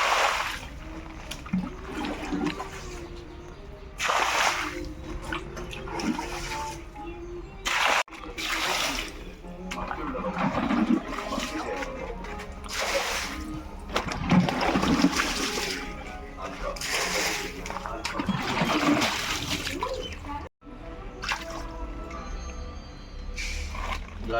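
Water splashes and sloshes steadily while a home fish tank is cleaned after six months, with continuous trickling and dribbling for the whole stretch.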